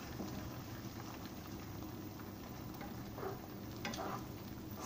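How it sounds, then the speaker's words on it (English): Beaten egg fries in heated oil in a wok for scrambled egg, a quiet, steady sizzle with a faint bubbling texture throughout. "I'm going to add this to heated oil."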